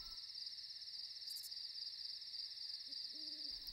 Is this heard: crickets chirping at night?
yes